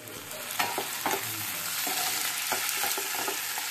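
Chicken pieces with ground turmeric and dried chili frying in a hot pan for chicken darbari, a steady sizzle broken by repeated scraping strokes of a spatula stirring the ingredients.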